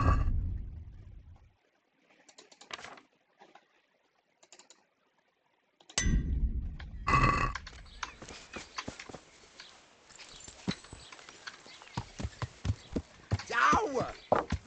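Rhythmic clip-clop of horse hooves in a medieval video game, sparse at first then fast and busy, mixed with clanks, a whinny and bursts of talking.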